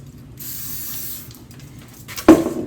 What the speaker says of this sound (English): I'm just using WD-40. Just spray it in there nice and liberally